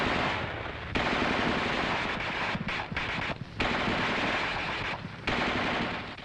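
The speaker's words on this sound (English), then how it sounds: "The gunner continues to fire in 20 to 25 round bursts" The coaxial machine gun of an M551 Sheridan armored reconnaissance vehicle fires in loud, sustained bursts, each a dense rattling roar broken by short gaps of a fraction of a second, close and powerful with no voices.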